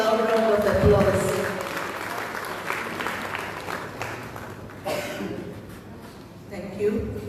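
Audience applause at a Goa Headmaster's Association felicitation ceremony for a retiring school headmistress, a broad steady patter of clapping across the hall with a voice talking over it, fading slightly near the end.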